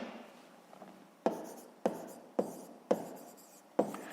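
Pen or pencil writing on paper during a sixth-grade math exercise, with a soft continuous scratching of strokes broken by five sharp taps at regular intervals, close and fairly quiet, no talking.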